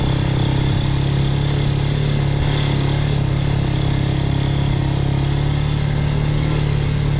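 An engine runs steadily with a low, throbbing hum, close by and unchanging throughout, with no voices.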